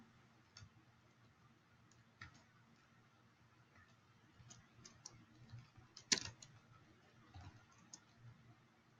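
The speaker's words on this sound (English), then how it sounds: "you could type at this speed" Typing on a Dvorak keyboard: faint, scattered keystroke clicks at an irregular rhythm, with one sharper, louder click near the end, over a low steady hum.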